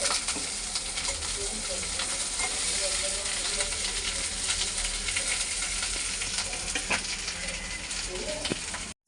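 Potatoes fry in oil in a wok for a biryani, a loud, close, unbroken sizzle with occasional stirring clinks and scrapes running throughout.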